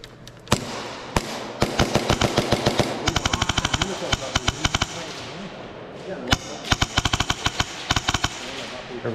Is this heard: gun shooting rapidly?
yes